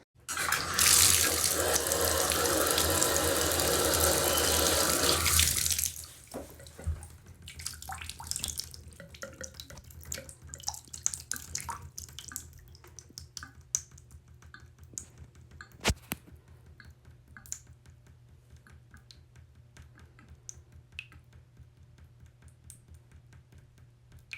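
Water runs loudly from a tap into a sink for several seconds, then stops; it then drains through a Drain Buddy hair catcher with faint trickles, drips and small clicks.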